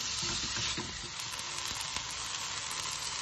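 Squid with ginger, chili and spring onion cooks slowly in a pan, giving a soft, steady sizzle with a few faint stirring clinks.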